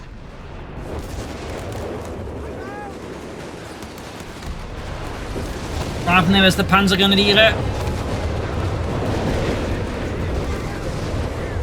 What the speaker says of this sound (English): More fire, more explosions, more death.